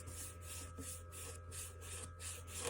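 A sponge rubs wood stain onto a wooden surface along the grain, making a quiet, rhythmic back-and-forth scrubbing of about seven strokes close by.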